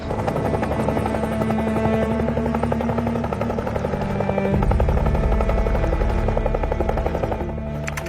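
A Bangladesh Army helicopter approaches, its rotors throbbing loud and steady, with a rising roar and whine that swells toward the middle and no voices over it.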